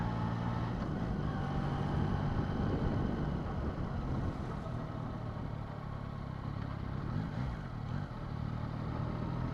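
A 2024 Yamaha MT-09 motorcycle on an evening ride, its engine droning steadily and fairly faint throughout, with wind noise and no voices.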